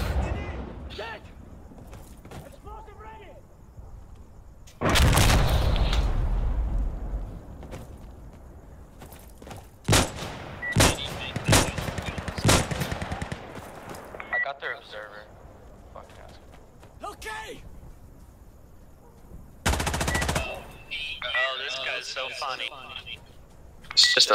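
Gunfire in the tactical shooter Insurgency Sandstorm comes as several sharp, loud bursts and single cracks scattered through the stretch, with footsteps and other game sounds between them and people talking over it.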